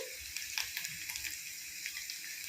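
Curry leaves dropped into hot oil for Attukal pickle sizzle with a steady, close crackling hiss and scattered pops throughout.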